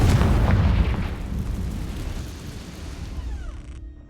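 Confringo spell blast in the video game Hogwarts Legacy: a loud, deep explosive boom at the start that rumbles and decays over a few seconds into a faint fading crackle.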